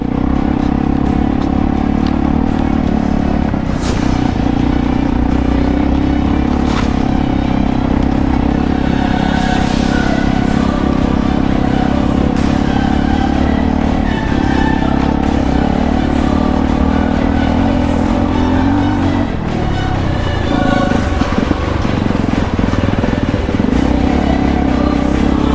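A 4x4 vehicle grinds steadily along a rough off-road route, its engine droning continuously with rattles and clatter from the bumpy ground, loud and close throughout.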